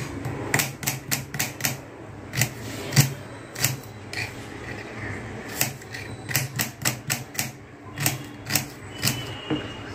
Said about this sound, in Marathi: इकडे लगेच सगळे कांदे वगैरे कापून घेते.